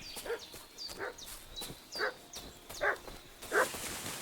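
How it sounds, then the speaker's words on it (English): A dog in the medieval video game Kingdom Come: Deliverance 2 barks over and over in a steady, agitated rhythm, about six barks at mid-distance with faint high whines between them. "Why is that dog barking?"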